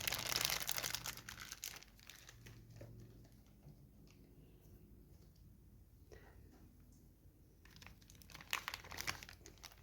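A space slime kit's plastic bag crinkles in bursts close by, loudest at the start and end, with quieter rustling in between.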